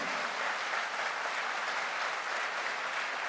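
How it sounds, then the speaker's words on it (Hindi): Crowd at a direct selling promotion event applauds steadily and evenly, a dense wash of clapping from many hands at moderate, distant level with no break. "जबरदस्त तालियां बजा दीजिए, हाथ ऊपर करके तालियां बजा दीजिए।"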